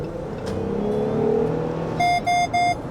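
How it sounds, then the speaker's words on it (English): Pentastar V6 engine of a 2023 Jeep Wrangler on big off-road tyres hums and revs moderately in town driving, followed by three short repeated electronic warning beeps near the end. "The Pentastar sounds brilliant."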